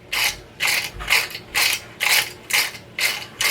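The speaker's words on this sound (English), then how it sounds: "The bristles, this is what it sounds like." Flexy Brush bristles click and rasp through curly hair in seven quick bright strokes at an even rhythm, each a short ratcheting crackle, close up and alone.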